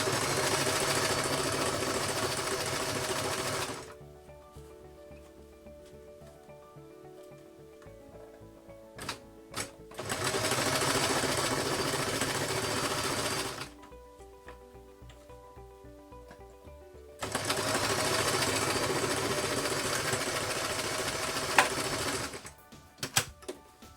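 A sewing machine stitches sequin circle nipple pasties, running back and forth in three loud bursts of rapid mechanical whirring separated by quieter pauses with small clicks and handling sounds, close up and without speech.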